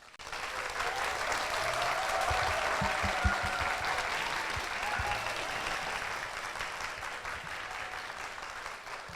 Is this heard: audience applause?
yes